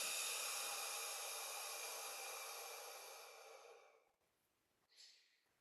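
A long, steady exhale during a Kundalini breathing exercise, a close, breathy rush of air that fades out slowly over several seconds, followed by a short, soft puff of breath.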